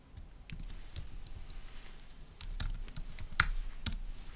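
Someone types a text prompt on a computer keyboard, with irregular bursts of clicky keystrokes and short pauses between them, a few taps landing louder and close to the microphone.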